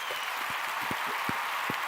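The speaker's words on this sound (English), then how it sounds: "And he just deserves a round of applause." Studio audience at a live television show clapping briefly, a fairly soft patter of scattered hand claps with a few sharper individual claps poking through.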